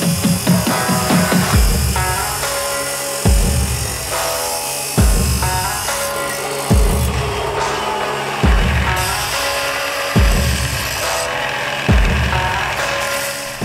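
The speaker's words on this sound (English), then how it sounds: "I'm going to cut the base plates and the backing plates for the load bars." A power tool cutting steel base plates and backing plates for load bars on a DIY overland canopy, a loud grinding whine in repeated cuts of about two seconds each, every one starting with a sharp bite, alone without talk.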